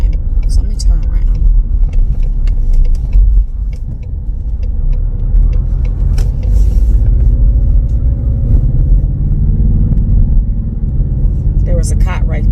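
A car drives and makes a U-turn on a road, with a steady engine rumble and road noise throughout, close and continuous, under some speech.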